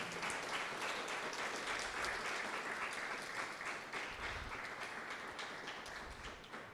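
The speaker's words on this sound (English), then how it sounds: "can we have a round of applause for all of our Year 3 class prize winners" At a school speech day, an audience applauds the Year 3 class prize winners with steady, moderately distant clapping, individual claps crisp within the continuous wash, tapering slightly near the end.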